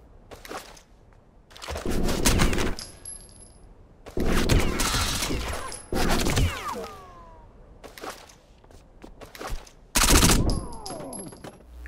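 Long, loud bursts of automatic blind fire in Rainbow Six Vegas rattle in several separate volleys, with ringing shell casings and metallic clinks tinkling after each burst and quieter pauses between.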